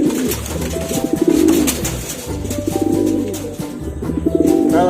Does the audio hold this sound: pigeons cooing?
yes